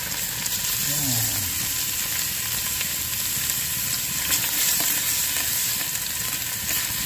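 Aromatics sautéing in a hot pan give a steady, close sizzle and crackle that runs throughout, with occasional stirring scrapes and a brief voice early on.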